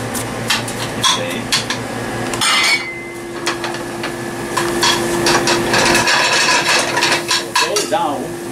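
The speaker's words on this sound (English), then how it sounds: "And we'll have to let the rice crisp a little." Rice toasts in butter in a pan for a spring risotto, with a soft sizzle under repeated scraping and clinking of a utensil against the pan, loud and close.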